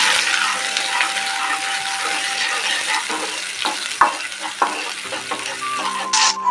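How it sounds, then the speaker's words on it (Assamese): Onions frying in hot oil, a loud, continuous close sizzle with occasional sharper crackles and a few light clinks near the end. "এতিয়া পিঁয়াজখিনি অকণমান ৰঙচুৱাকৈ ভাজি লওঁ।"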